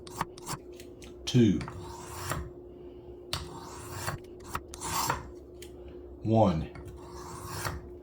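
A dull pocket knife is drawn across a whetstone in short, gritty rasping strokes, with several distinct passes separated by pauses, close and fairly loud, while a voice briefly counts between them.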